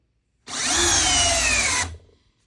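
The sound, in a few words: cordless drill in drill mode, speed 2, driving timber lock screw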